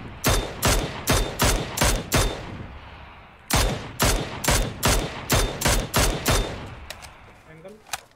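Bursts of automatic gunfire in the PUBG battle royale game ring out in rapid, evenly spaced volleys, two long strings separated by a brief pause, loud and close, fading at the end.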